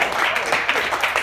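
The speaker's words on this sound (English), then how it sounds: "I needed that empty applause." A brief patch of thin audience clapping at a comedy open mic night, a loose and uneven smattering that is fairly loud and close.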